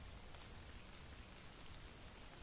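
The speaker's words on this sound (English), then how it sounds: "so you can hopefully be able to hear. The rain coming in." Rain sound effect from a sound-cue app plays as steady, close, dense hiss of rainfall, continuous and even throughout with no voices.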